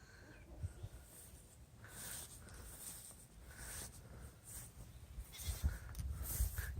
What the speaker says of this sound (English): Goats follow you around.